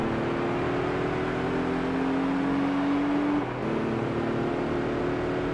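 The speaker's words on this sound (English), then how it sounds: "Very angry revving." Volkswagen Beetle cup cars revving their engines in Gran Turismo 3 on PS2: a steady, droning engine whine that climbs slowly in pitch, then drops off briefly before the hum resumes, loud and continuous with no talking.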